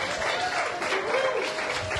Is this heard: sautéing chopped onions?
no